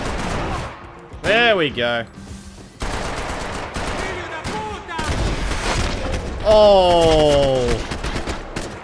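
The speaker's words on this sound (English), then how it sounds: "Who are you shooting at?" Gunfire in the Max Payne 3 video game, stadium massacre level: bursts of shots and booms spread across the clip, with short spoken remarks and a rising tonal game effect near the end.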